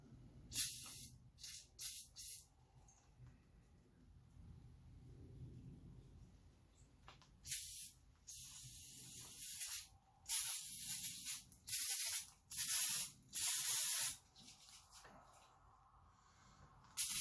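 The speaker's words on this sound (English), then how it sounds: "I like to spray through all the holes on the outside that go in." Bursts of hissing spray from an aerosol can, some short and some sustained, close up, separated by quiet gaps.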